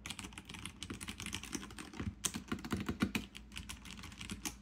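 Brisk, steady typing on a Ducky mechanical keyboard, a dense run of close, crisp clacks with no pauses and no voices.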